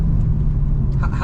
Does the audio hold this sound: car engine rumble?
yes